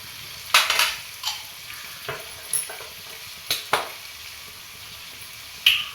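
Chicken manchurian with chilli vinegar sizzles in a pan, heard as short bursts of hissing and scraping stirs, several separate spurts over a quiet background.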